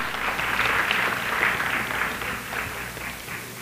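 A crowd at a Garifuna American Heritage Month celebration in Brooklyn gives sustained applause, a steady, full roar of many hands clapping together with no speech on top.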